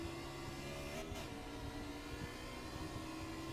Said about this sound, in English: I can still hear the motor revving up.